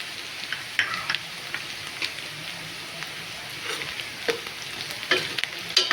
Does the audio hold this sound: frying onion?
yes